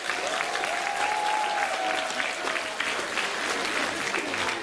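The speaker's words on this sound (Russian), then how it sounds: "Ну-ка, громче аплодисменты!" An audience at a choreography festival concert applauds steadily throughout, a dense, even wash of clapping heard alone at moderate level.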